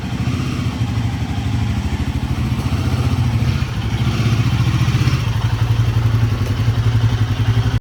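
A motorcycle engine idles steadily to warm up, a close, continuous low throb with a slight rise in level partway through and no voices.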